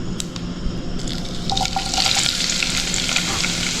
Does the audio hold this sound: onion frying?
yes